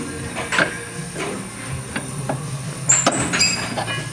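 A hammer taps at a ball joint while replacing the front struts on a 2000 Chrysler Cirrus, giving several sharp metallic knocks spaced about half a second apart, close by with no talking.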